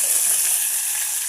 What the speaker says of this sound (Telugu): 1 చెంచాడు ఆవాలు వేసుకోవాలి.